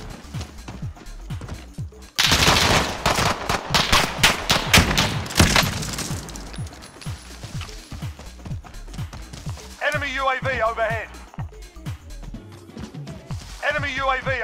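Video game gunfire in Warzone, bursts of rapid shots and a loud fusillade early on, followed by intermittent shots and clatter, with voices talking over the action.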